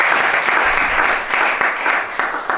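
A church congregation applauds loudly and steadily, a dense wash of clapping filling the room with no break for the whole stretch.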